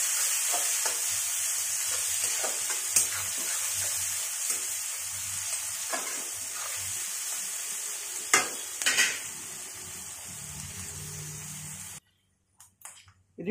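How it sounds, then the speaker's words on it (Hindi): Cumin seeds, three chopped onions and chillies fry in hot refined oil, a loud continuous sizzle with occasional scrapes and clinks of a spoon against the pan, ending abruptly in near silence. "इसमें डाल दूँगी जीरा और जो हमारे कटे हुए 3 प्याज हैं और मिर्च हैं इनको डाल दूंगी। इनको हम भूनेंगे बहुत अच्छे से।"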